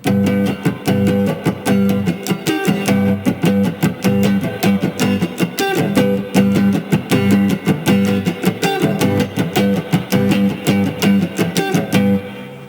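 Electric guitar played without wah, a steady rhythmic pattern of muted and strummed chords with a dry, even tone throughout.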